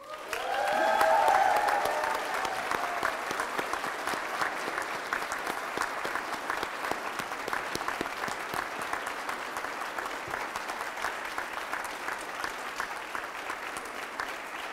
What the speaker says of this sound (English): please join me in a warm round of applause in celebration of Kaetlyn